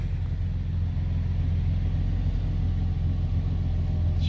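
A 1999 Pontiac Bonneville's 3800 V6 idles steadily and smoothly after an intake manifold replacement, a loud, close, even low rumble with no voices.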